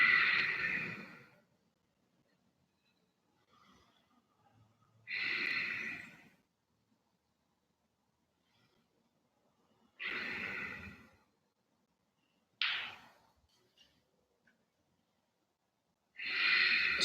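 Slow, deep breaths during a yoga class recur every few seconds, full airy inhales and exhales separated by stretches of near silence, close and clear.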